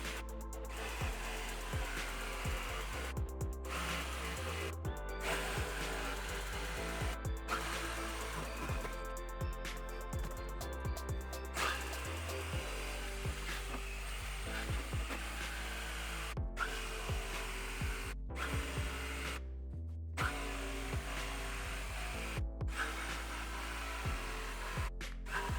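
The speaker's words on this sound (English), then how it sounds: "I'll use my jigsaw to cut out the outline." A jigsaw cuts the outline of a 36-inch cherry wood axe handle, its buzzing motor running steadily at close range, with brief stops and restarts as the cut progresses.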